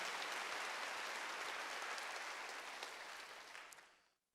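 A church congregation at a Wednesday worship service claps together after a prayer, a dense, quiet round of applause that fades out near the end.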